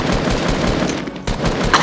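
Rapid bursts of P90 submachine gun fire in a Fortnite zombies game mode, a dense continuous rattle of shots that is loud and close, with a brief dip midway before the firing resumes.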